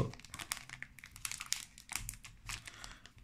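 Crinkly plastic wrapper of a Japanese Pokémon VMAX Climax booster pack being torn open, close and busy with sharp rustles and crackles across the whole clip, no speech.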